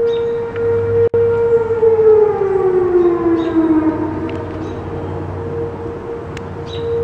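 Outdoor tornado warning sirens during a storm outbreak, a loud sustained wailing tone slowly falling in pitch while a second siren overlaps it, with a sharp click early on.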